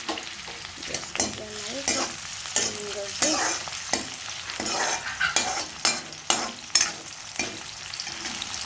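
Onion frying in a pan for upma while being stirred, a steady sizzle broken by repeated scraping strokes of a spoon against the pan in an irregular rhythm, close and clear.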